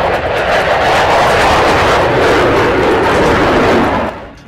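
Fighter jet roaring past with a loud, sustained engine rumble and broad jet noise that holds steady for several seconds and then drops away at the end.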